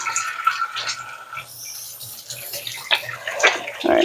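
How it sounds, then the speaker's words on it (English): Hands washed under a running tap, a close hissing water flow with intermittent splashing and clinks. "Wash my hands since I touched the egg."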